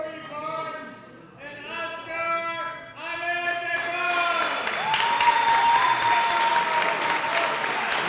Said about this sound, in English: hear that cheering for Askar?